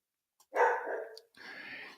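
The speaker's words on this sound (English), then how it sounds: "I have a dog in the background" A dog barks twice in quick succession, close and fairly loud, the second bark drawn out, against an otherwise quiet room.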